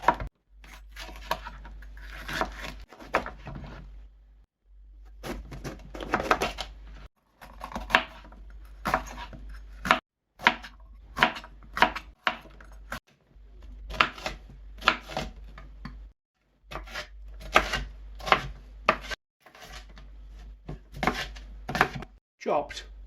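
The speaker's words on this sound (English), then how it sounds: "Let's start chopping." Steady knife strokes on a cutting board in irregular bursts with short pauses, close and fairly crisp, no talking.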